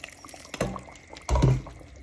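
About 150 ml of water is poured into a simmering pot of Jamaican curry mutton, two short splashing pours close by with quiet gaps between.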